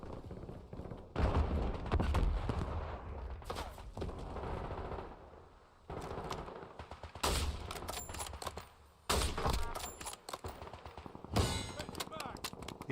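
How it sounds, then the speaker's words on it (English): Gunfire from a rooftop in Call of Duty Warzone sounds as repeated bursts of loud automatic shots and single cracks, close and sharp, separated by short lulls with a voice talking in between. "He's got somebody shooting him from the rooftop."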